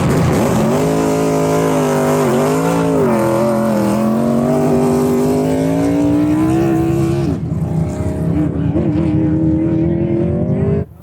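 A hot rod race car on El Mirage dry lake roars loudly as it is push-started behind a truck, its engine note rising steadily in pitch and then dropping away near the end.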